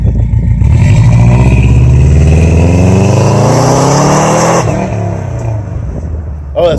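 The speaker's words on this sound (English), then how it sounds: "What's it sound like pulling away?" A 2005 Subaru WRX pulls away hard, its loud engine note climbing steadily through the revs close by before cutting off sharply near the end.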